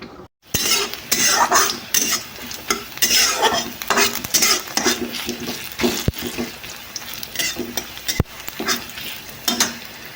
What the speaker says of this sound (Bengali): এখন আমি তেলকা লাগাবো পেঁয়াজ আর কালো জিরে